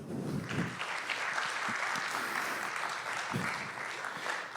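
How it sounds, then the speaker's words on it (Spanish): A church congregation claps together in steady, sustained applause. It sounds moderately near and fairly soft, with no voices over it. "¿Le das un aplauso al Señor?"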